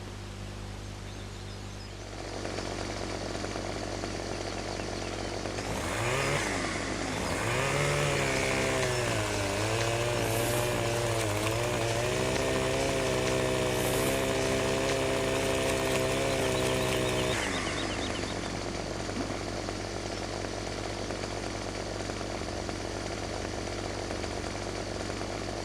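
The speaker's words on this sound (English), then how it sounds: "I think it's time for me to get a chainsaw, start stripping these trees down" Chainsaw in Farming Simulator 17 stripping felled trees before they go onto a timber trailer, a steady engine drone that revs up into a loud, wavering cutting whine for about ten seconds, then drops back to idle.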